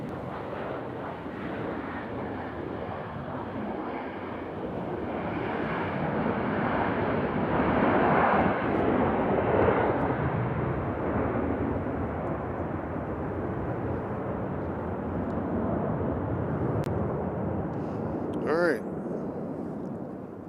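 Airliner from LAX flying past at Nashville International Airport, a broad jet roar that swells to a peak midway and then slowly fades, with brief voices in the background.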